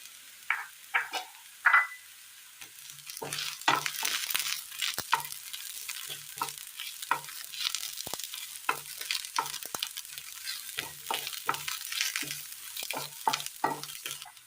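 Chopped shallots and green chillies sizzle in hot oil in a pan, with a spoon stirring and scraping in steady irregular strokes over a constant frying hiss.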